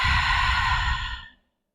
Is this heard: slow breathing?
yes